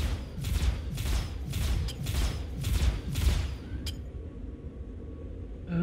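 Ship-mounted guns hammer away in Star Citizen, a Cutlass spaceship taking fire, with about seven loud, evenly spaced blasts in steady rhythm before the barrage stops and a faint mechanical hum remains.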